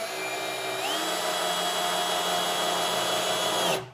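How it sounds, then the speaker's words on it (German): A Bosch 12V cordless screwdriver fitted with an angle attachment drives a screw, its motor whining steadily and rising in pitch after about a second, then cutting off abruptly near the end. "und die Schraube reinschrauben"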